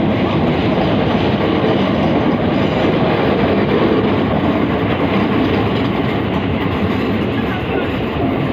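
A British Rail Class 465 electric multiple unit runs by at London Bridge, giving a continuous close rumble of wheels and motors that holds at an even loudness throughout, with no talk over it.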